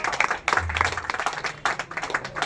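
Church audience at a Telugu prayer gathering breaking into loud clapping, dense and steady for a couple of seconds, with a low hum underneath.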